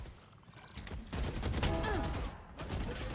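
Sustained suppressing gunfire in Valorant rattles close and loud through most of the short stretch, a dense continuous burst that briefly dips before resuming.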